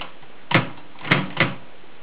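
An LC Smith No. 8 typewriter's automatic tabulating system gives three brisk mechanical clacks, loud and close, with the last two coming quickly together.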